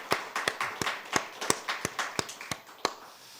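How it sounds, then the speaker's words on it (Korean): Scattered, sparse clapping from a church congregation after a dawn prayer service, a dozen or so distinct claps spaced unevenly, fairly quiet in a roomy space. "우리 박수 한번 하겠습니다"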